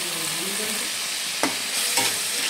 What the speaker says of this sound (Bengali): এবার মশলাটাকে একটু ভালো করে আমি কষিয়ে নেব